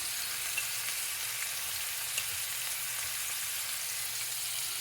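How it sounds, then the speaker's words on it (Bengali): Fish fries in a pan of oil with a constant, even sizzle and faint scattered pops, moderately close and unbroken the whole time, with no voices. "মাছ ভাজে বসিয়ে দিলাম"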